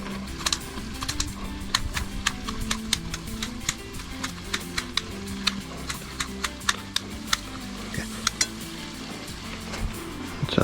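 Knife cutting up food on a board: a steady series of sharp, close chopping taps at an even, quick rhythm that continues across the whole stretch, with low background noise and no talking.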